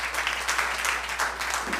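Applause from a church congregation at a Baptist church anniversary service, steady dense clapping throughout, close and full, with no speech over it.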